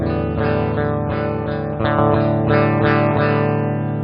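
Electric guitar chords strummed through a clean Princeton amp model on a Headrush MX5, with a slight chorus-like shimmer, several ringing strums in a row, loud and close.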